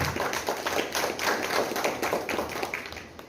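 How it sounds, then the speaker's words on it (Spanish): An audience at a philosophy café talk applauds steadily, a dense patter of many hands clapping at once, fairly close and sustained throughout. "vamos a darle un aplauso al doctor Ovidio Madrigal por esta intervención"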